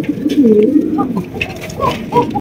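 Andalusian pigeons at a pigeon farm cooing close by, several rolling throaty coos in quick succession with overlapping calls, loud and clear, no talking.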